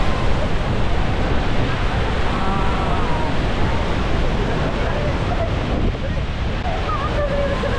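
A steady, dense roar of falling water at Niagara Falls, heard from a boat, fills the whole clip, loud and continuous, with faint voices and wind buffeting underneath.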